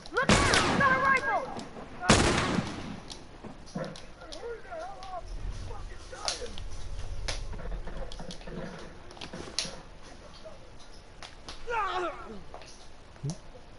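Rifle gunfire in The Last of Us video game, with sharp loud shots near the start and a few scattered later cracks amid game ambience, while a player talks over the action.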